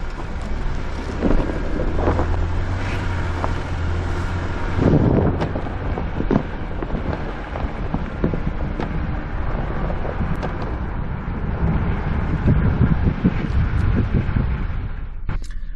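Steady wind roars and buffets a microphone at a Montana mountain jeep trail in winter, loud and continuous, with a low engine rumble under the first few seconds.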